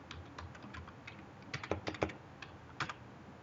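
A PAN number is typed on a computer keyboard, with soft, irregular keystrokes clattering close by, some clusters louder, and no voices.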